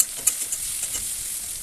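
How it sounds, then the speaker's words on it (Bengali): Chopped onions with a pinch of salt fry in a pan after cumin, giving a bright, steady sizzle close by, punctuated by a few sharp stirring clicks and scrapes, with no talking. "পেঁয়াজটা ভালো করে ভেজে নিব"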